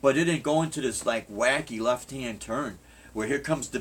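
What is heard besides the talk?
No everyday noises stand out.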